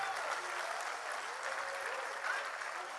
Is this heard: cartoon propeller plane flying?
no